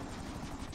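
Helicopter rotors in the video game GTA 5, a continuous rapid chopping whir that is loud and close and stays steady through the short moment, with no talk.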